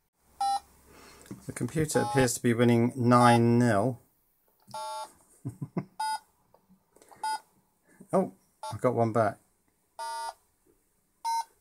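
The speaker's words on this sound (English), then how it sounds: "And it's sort of beeping with ever more urgency." Short electronic beeps in bursts from an Atari video game system, repeating between stretches of someone talking, growing quicker toward the end.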